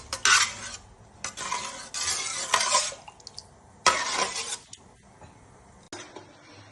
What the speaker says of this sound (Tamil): அதுக்கப்புறம் அந்த ரத்தத்தை எல்லாம் கூடி நல்லா கிண்டி விட்டுக்கோங்க